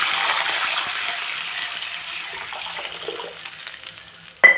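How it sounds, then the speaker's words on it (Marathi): Water pours into a cooking pot holding hot oil, cumin, whole spices and bay leaf, a gushing splash that tapers off over a few seconds before a sharp metallic clink at the end. "त्याच्यात टाकू पाणी"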